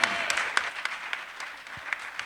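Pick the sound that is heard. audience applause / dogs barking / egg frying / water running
audience applause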